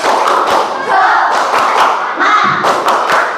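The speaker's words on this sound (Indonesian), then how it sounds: "Kita tepuk semangat dulu. Tepuk semangat." Students in a classroom perform a rhythmic spirit clap in unison, loud, repeated thumping claps in a steady pattern with some crowd voices mixed in.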